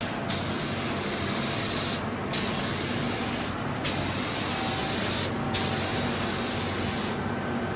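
A spray gun sprays color shift paint onto a Miata in a steady loud hiss, cut off by four short pauses as the trigger is released between passes.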